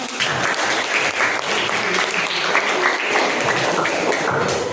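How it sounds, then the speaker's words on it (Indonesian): Audience applause at a school learning session, a steady dense wash of many hands clapping at full volume throughout, with no talk over it. "Tepuk tangan untuk kalian semua."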